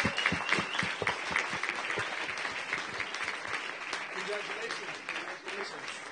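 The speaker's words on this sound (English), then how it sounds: "Let's have a round of applause." An audience at the iCoin Summit 2018 applauds the winner: a dense, steady wash of many hands clapping that holds at an even level throughout, with voices mixed in.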